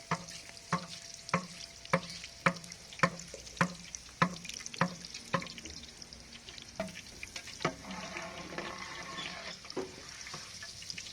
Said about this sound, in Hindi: लगा दिया प्याज फ्राई